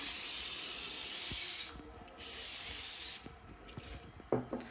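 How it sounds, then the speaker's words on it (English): Close, loud cooking spray hisses onto a pan in several long bursts with short pauses between them, then a few faint clicks. "spray it on"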